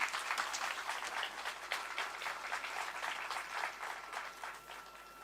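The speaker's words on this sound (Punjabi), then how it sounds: "ਜ਼ੋਰਦਾਰ ਤਾੜੀਆਂ" Audience applause greeting the Chief Minister at a school event honouring PSEB exam toppers, a steady wash of many hands clapping for about five seconds at moderate, roomy distance, with no talk over it.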